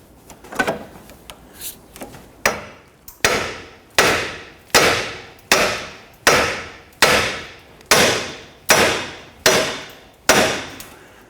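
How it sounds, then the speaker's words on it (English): A hammer strikes the steering knuckle of a 1992-1996 Toyota Camry to separate the lower ball joint, about a dozen loud metallic blows in a steady rhythm, each ringing briefly, close and without talk. "We're going to use a hammer and strike right here on the knuckle."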